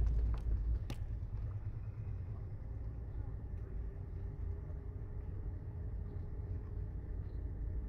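A manual car creeps slowly in second gear while backing out of a garage, a low steady engine rumble throughout with a couple of faint clicks near the start.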